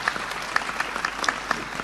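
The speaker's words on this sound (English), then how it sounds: "Please give a round of applause for Ms." A college research week audience applauds a panelist with steady, dense clapping and a few sharper claps standing out, sustained and fairly close.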